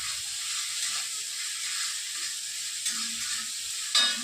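Ginger paste frying in a pan gives a steady, close sizzle and hiss. Light stirring scrapes sound now and then, and the hiss swells briefly near the end.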